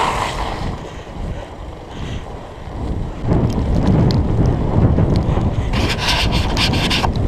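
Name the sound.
Surly Moonlander fat bike riding through creek water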